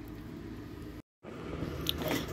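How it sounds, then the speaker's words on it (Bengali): Someone eats kalo jam, soft syrupy Bengali sweets, with close, moist chewing and squishy bites, broken by a brief moment of silence. "আমার ভাই মিষ্টি দিয়ে গেছে, কালো জাম খাচ্ছি।"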